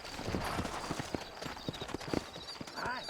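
Horses clip-clop along a trail in Red Dead Redemption, a string of distinct, fairly close hoof strikes in an uneven walking rhythm against light outdoor ambience.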